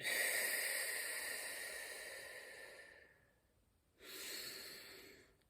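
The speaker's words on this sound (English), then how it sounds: "I highly recommend deep breathing, at least 10 minutes every single day. Big in, big out." A slow, deep breath out hisses steadily for about three seconds, then after a short pause a long breath in follows, close to the microphone and alone.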